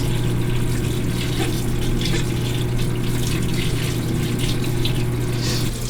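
Washing machine filling with gravity-fed rain barrel water at low pressure, a steady continuous rush and hum of water flowing in, close and even throughout with no talking.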